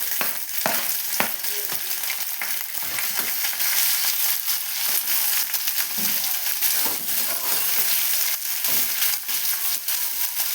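Sliced onions sautéing with salt and dried red chillies in a pan for aval kichadi give a steady, close sizzle, broken by scattered clicks and scrapes of stirring.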